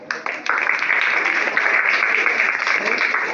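Applause from a class of schoolchildren at an environment and vegetarianism seminar in a school, a dense, steady patter of many clapping hands that starts quickly and holds at full strength throughout, with no voices over it.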